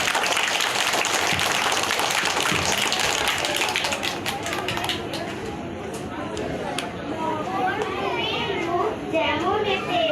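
A group of children clapping loudly during a yoga demonstration, a burst of dense claps at first that thins into scattered taps, with children's voices and chatter running through and continuing after.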